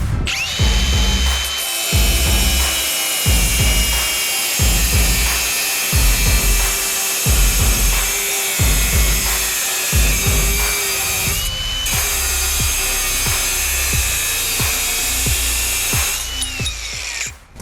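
A Milwaukee M18 cordless angle grinder whines continuously up close, its motor pulsing and grinding in repeated surges as it cuts through 5 mm ceramic tile, with no voices.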